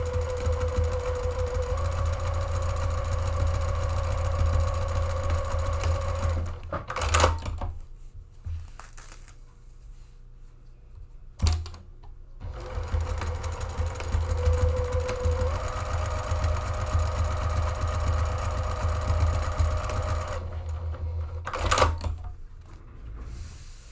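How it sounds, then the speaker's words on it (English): A sewing machine stitches vertical rows through a lightly padded zippy pouch pocket. It hums at a steady whir in two long runs, each broken by short clunks and quiet pauses between passes. "I'm going to stitch 2 rows of vertical stitching to divide my pocket in thirds"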